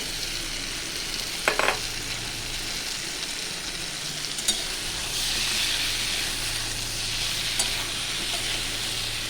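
Jackfruit seeds sizzling steadily in hot spiced oil for a shrimp chochchori, with a few clinks of stirring near the start and a broad, even frying hiss throughout.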